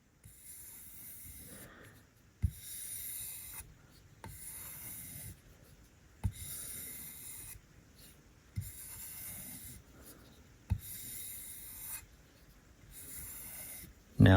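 A knife blade scraped across a sharpening stone in slow, regular strokes, each a soft rasping pass with a faint tap at the turn, close and quiet with no talk.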